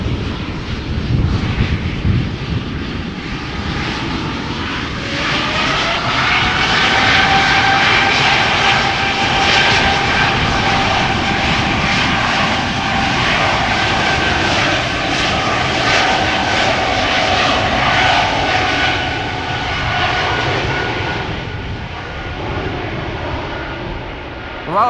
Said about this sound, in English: This is KLM flight 1425, outbound Birmingham, E2 Embraer 195